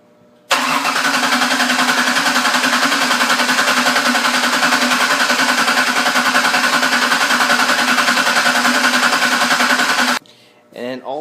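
A car engine cranks on its starter without firing during a power steering flush, a loud, fast, even chugging whir held for about ten seconds before stopping, followed by a brief voice.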